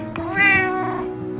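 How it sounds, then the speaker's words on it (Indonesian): A cat gives a single clear, close meow that rises and falls over about a second, with no talking. "Meong adalah bahasa yang mereka kembangkan secara khusus untuk berbicara dengan kita, manusia."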